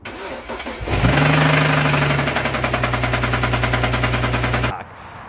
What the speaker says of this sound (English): and here it is, rod knock